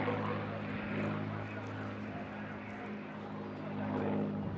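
A display aircraft departing eastward after a victory roll at the Eastbourne International Airshow, a steady propeller engine drone that eases slightly then swells again, moderately distant, with a voice speaking over it.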